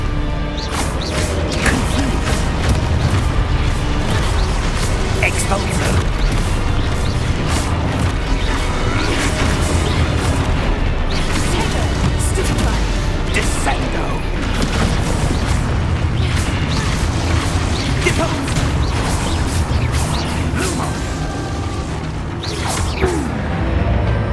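Spell blasts such as Confringo go off in Hogwarts Legacy as a loud, dense run of booms, crashes and pops that carries on for the whole stretch under game noise.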